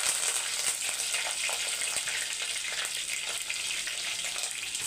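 Mustard seeds and curry leaves crackle in hot oil while masala fish curry is cooked: a dense, continuous sizzle with rapid popping, close and fairly loud, with no voices.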